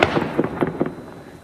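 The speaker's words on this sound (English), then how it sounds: "The gunshots echoing on the street there." Rapid string of sharp gunshots from a semi-automatic rifle on a city street in Cambridge, Massachusetts, five or six cracks about a fifth of a second apart, echoing off buildings and fading quickly.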